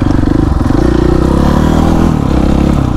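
A loud dirt bike engine on dirt tires roars up close on a closed course, revving and rattling with a rough, pulsing drone that shifts pitch as it accelerates.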